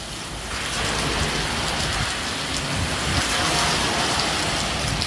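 Heavy rain pours onto a road in a steady, dense hiss that rises after the first half second and stays loud and even throughout, with no voices.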